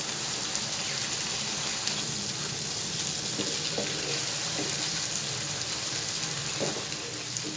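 Capsicum and potatoes frying with turmeric in a pan, giving a steady, even sizzle like light rain that holds at one level throughout, with no talk over it.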